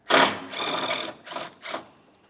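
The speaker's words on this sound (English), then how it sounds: "Remove the mounting bolt and that bracket." A 10mm mounting bolt being ratcheted out of a metal headlamp bracket on a 2004-2008 Pontiac Grand Prix: close, fast buzzing ratchet bursts, one long run followed by two short spurts, alone without talk.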